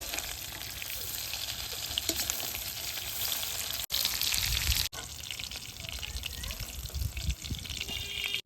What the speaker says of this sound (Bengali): ফুলকপিগুলো ভাজা হয়ে গেছে এখন নামিয়ে নেব